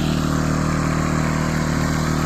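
A LIFAN 2000W pure sine wave inverter generator runs at a steady idle, its small engine giving a constant droning hum with a low exhaust putter, close and even throughout.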